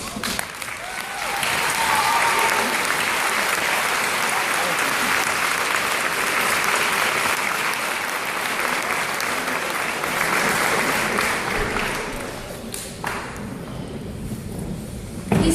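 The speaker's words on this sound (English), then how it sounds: "I'd like the class 2014 to stand and applaud our parents and guardians" A graduating high school class at a graduation ceremony stands and applauds parents and guardians, sustained loud clapping from a large crowd that swells, holds for about ten seconds, then fades.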